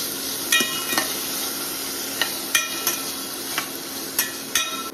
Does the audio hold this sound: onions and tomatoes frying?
yes